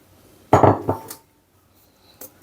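Pancake batter being mixed in a bowl: a short burst of clattering scrapes and knocks of utensil against the bowl, then near quiet with a faint tap near the end.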